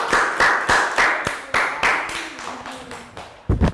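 Year 3 children in a classroom give a round of applause, a quick run of sharp, close claps in a steady rhythm that stops abruptly, with a brief voice near the end.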